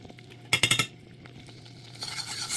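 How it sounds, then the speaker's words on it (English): Flour being stirred into melted butter in a pan to make a roux for nacho cheese sauce, a quick cluster of sharp utensil clinks against the pan, then softer scraping and a faint sizzle. "Stir to make a roux."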